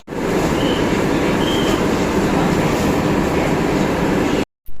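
A passenger train on the railway from Birati station toward Sealdah, heard from on board as a loud, steady rolling rumble and rattle that cuts out briefly near the end.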